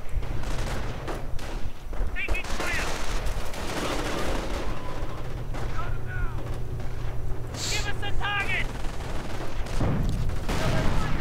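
Rifle gunfire in a strategy video game, a dense stream of rapid shots and bursts mixed with in-game effects and explosions, with a commentator talking over the fighting.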